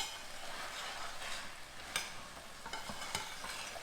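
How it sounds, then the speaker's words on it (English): Small potatoes for caldo verde sizzling and frying in a pot, a soft continuous crackle with a few sharper clinks and stirring scrapes, quiet and close with no talking. "So you hear it sizzling, it's simmering up nicely."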